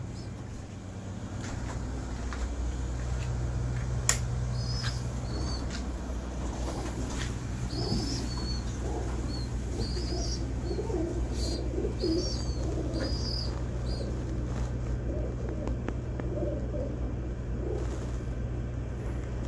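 Pigeons being kept for breeding, with soft cooing and chirping calls scattered over a steady low outdoor rumble of distant traffic, the bird sounds faint and intermittent throughout.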